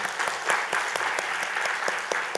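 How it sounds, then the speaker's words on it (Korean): A church congregation claps steadily and warmly for a couple of seconds, a dense, even patter of many hands with no voices. "우리 축복의 박수 보내주시기 바랍니다"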